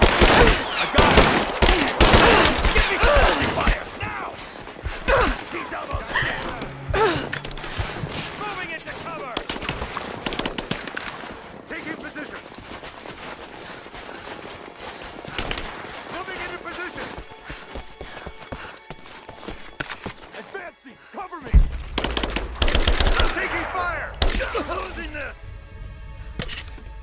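Rapid bursts of gunfire and heavy shooting fill a firefight in the video game Rise of the Tomb Raider, loud and dense for long stretches, with shouted voices and running mixed in and a brief quieter lull.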